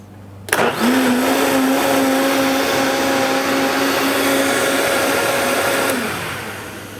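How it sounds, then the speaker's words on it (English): A blender switches on and runs loud and steady, whirring through a cherry fudge flaxseed smoothie for several seconds before winding down. "I'm gonna pop the lid onto the blender and I'm gonna start to blend it"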